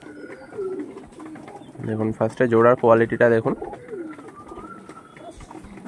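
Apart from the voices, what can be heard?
tournament pigeons cooing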